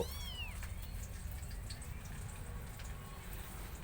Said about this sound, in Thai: อายุหนึ่งเดือน แข็งแรง พร้อมลุยพร้อมบวกตลอดเวลา นี่คือ แมวน้อยชิงโต